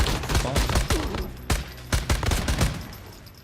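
Full-auto gunfire from the video game Once Human rattles in rapid, sharp bursts, each shot a distinct punchy crack, loud and close before tapering off at the end.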